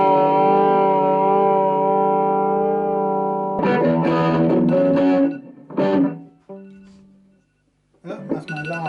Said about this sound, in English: Sorry, alarm clock going off.